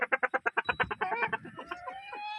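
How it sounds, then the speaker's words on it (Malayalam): Fighting-breed hens kept for eggs cluck in a rapid run of short, close calls that slow into drawn-out squawks, with no talking. "മുട്ടക്ക് വേണ്ടിയിട്ടുള്ള 3 പടക്കോഴികൾ."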